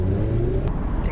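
Steady road and engine noise from a Mazda MX-5 RF driving with its roof down, with a continuous low drone and a faint whoosh of passing air, no voices.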